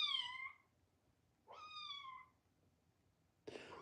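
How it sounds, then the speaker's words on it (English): A cat gives three meows at a door, each one clear and close, trying to get into a room. The first two are long and drawn out, the third is short and abrupt, with quiet gaps between them. "This cat really trying to get in this room."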